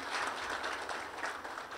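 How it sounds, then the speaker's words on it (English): An audience at the Tunapuna Hindu School graduation ceremony applauds, a full, steady roar of clapping from many hands with no talk over it. "Round of applause for that school"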